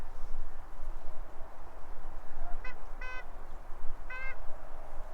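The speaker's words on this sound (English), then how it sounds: "The horn sounds terrible." A Volkswagen Passat Estate horn gives a few short, thin honks in quick bursts, heard faintly at a distance over steady outdoor background noise on a farm road near cows.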